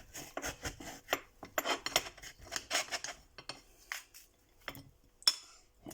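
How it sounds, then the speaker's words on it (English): A knife cutting through food on a board while making chips, a series of close, quick chops and scraping cuts in irregular bursts, quieter toward the end. "I'm going to cut it in half again"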